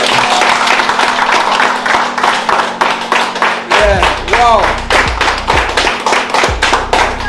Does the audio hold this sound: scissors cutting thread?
no